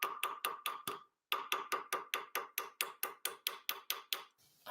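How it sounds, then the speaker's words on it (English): Metal being flattened with a hammer, about twenty sharp ringing blows in a quick even rhythm, close and clear, with one short pause after the first five strikes. "everything that we can't get flattened out with a hammer"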